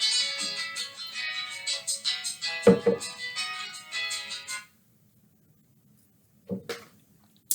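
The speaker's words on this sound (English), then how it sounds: "there go the phone" A phone ringtone plays as a rapid melodic tune for several seconds, close and fairly loud, then stops, with brief low voice sounds and thumps afterward.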